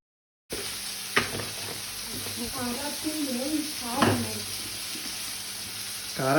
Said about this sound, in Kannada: ರೋಸ್ಟ್ ಮಾಡಾಕಿಟ್ಟಾಳು.